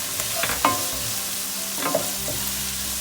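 Vegetables stir-frying in a pan for restaurant-style mixed fried rice: steady sizzle with a few sharp spatula scrapes and clinks against the pan, close and alone.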